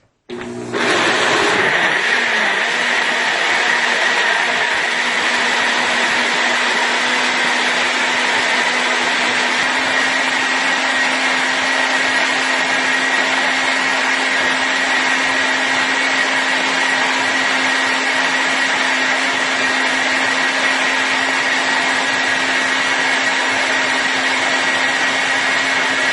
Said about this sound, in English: And now I am going to go ahead and I am going to blend this.